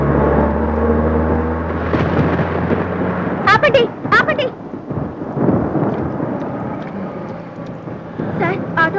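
Heavy rain pours with thunder, a dense roaring wash broken by deeper rumbles, while people talk over the storm.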